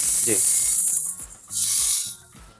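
Raw rice pours into a blender jar for grinding in two short hissing, rattling rushes of grains, loud and close, with quiet gaps between them.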